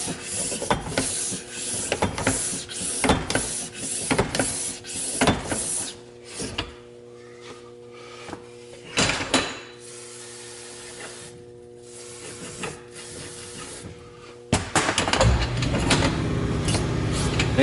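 A Roadmaster Sterling tow bar section slides in and out repeatedly, giving close scraping, rubbing strokes in bursts with quiet gaps, followed at the end by a steady hiss as an air compressor starts.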